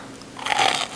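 Cooked shrimp is bitten and chewed close up, with a quiet start followed by a brief, crisp burst of biting and mastication.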